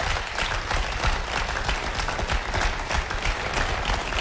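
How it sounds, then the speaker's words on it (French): An audience at a pitch training session applauds itself, with continuous, even clapping from many hands that holds steady throughout. "Je veux que vous vous applaudissiez parce que ça"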